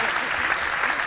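Audience applause at an award ceremony stage, a steady, dense clapping sustained evenly throughout with no break.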